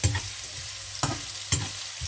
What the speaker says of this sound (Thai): ผัดขิงไปเรื่อยๆ ให้ขิงหอมจ้ะ